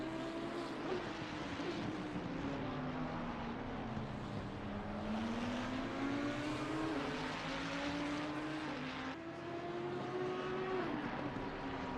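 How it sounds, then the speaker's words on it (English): An Audi R8 GT3 race car roars in a racing video game set at the COTA circuit. Its engine note is steady and moderately loud and rises and falls in pitch through the laps, with no talking. "The Audi R8 does make his way by in the final lap of the race."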